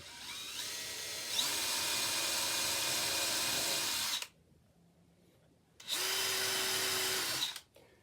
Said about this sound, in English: I'm gonna drill a hole and put an 1 1/8" screw in.